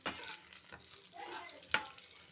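Dried and green chillies frying in oil, a soft crackling sizzle with a few sharp pops and stirring scrapes, fairly quiet and close.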